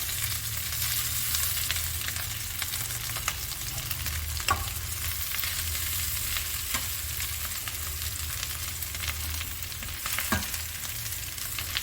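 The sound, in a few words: mashed boiled potatoes stirred into frying onions for samosa filling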